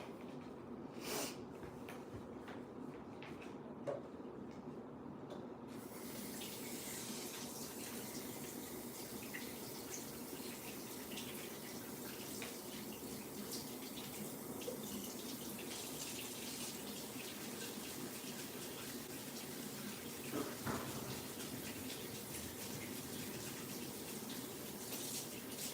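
A tap runs steadily for about twenty-five seconds, filling the pets' water with an even, continuous rush. It stays fairly close throughout, and a few faint knocks and clinks sit under the flow.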